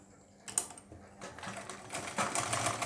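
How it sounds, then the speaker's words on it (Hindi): A sewing machine stitches a garment sleeve, starting with a few brief mechanical taps and then speeding into a quick, rattling stitch run that grows louder toward the end. "आपको यहाँ से सिलाई की स्टार्टिंग कर देनी है"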